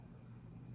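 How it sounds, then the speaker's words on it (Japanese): A cricket chirping indoors in a room at night, a steady continuous high trill held throughout, faint and close with no talk over it. "あら、コオロギじゃん。"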